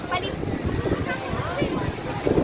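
Strong wind buffets the microphone in a steady, rumbling roar on Boracay, with faint voices mixed in underneath.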